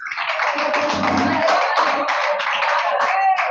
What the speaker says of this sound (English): Clap for both of you guys